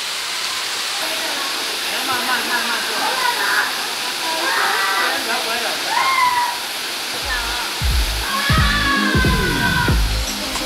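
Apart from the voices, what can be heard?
waterfall, second tier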